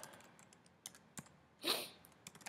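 Faint, close keystrokes tap on a computer keyboard as a name is typed in, scattered single clicks with a short burst of quicker typing in the middle.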